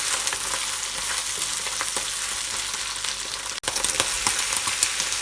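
Garlic and shiitake mushrooms sizzle in a hot pan for a Hakka-style red pork dish, a loud continuous frying hiss with occasional stirring scrapes and a brief pause near the end.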